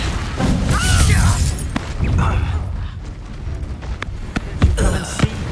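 Magical Confringo blasts from Hogwarts Legacy go off as a series of loud booming explosions with crashing, crackling bursts scattered across a few seconds of busy combat noise.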